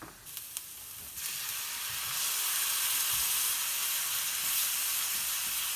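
Roast beef sizzling in a pan as wine is poured in, a few light clinks and then a loud, steady hiss of steam and sizzle that swells and holds, close up with no talking.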